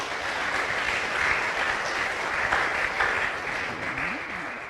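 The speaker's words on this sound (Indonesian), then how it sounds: "Kita tepuk tangan dulu saudara-saudara." Audience applause at an Indonesian Christian gathering, a steady wash of hand clapping heard alone at moderate level for several seconds.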